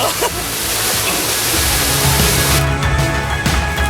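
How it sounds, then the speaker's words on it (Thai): A waterfall in Thailand roars with a dense, steady wash of falling water, loud and close, filling the whole scene without pause. "ที่ว่าเป็นน้ำตกตาดที่มีความสวยงามอีกแห่งหนึ่งของ เมืองบุญเหนือ"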